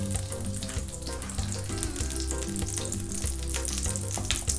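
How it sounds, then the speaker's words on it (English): Butter melting in a hot frying pan for French toast, a loud, constant sizzle and crackle running evenly throughout, close up. "给那个 butter 融化在锅里面。"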